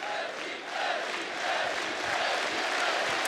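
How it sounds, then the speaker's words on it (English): A crowd in an esports arena at a CS:GO grand final, IEM Katowice 2016, gives a sustained roar of cheering that swells and stays loud, with a faint voice mixed in. "Crowd is getting pumped."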